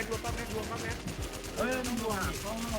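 Video game gunfire rattles in quick automatic bursts close up throughout, with excited voices talking over the shooting.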